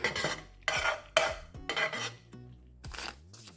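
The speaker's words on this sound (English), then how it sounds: "Stir that, see how it look." A spoon stirs macaroni and cheese seasoned with black pepper in a pot, Bahamian style: several short, close scraping and clattering strokes separated by brief pauses.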